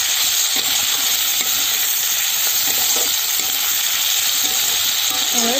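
Onions and vegetables for a Bengali pui shak dish sizzle steadily in a frying pan, a continuous loud broadband hiss with faint stirring, no talking.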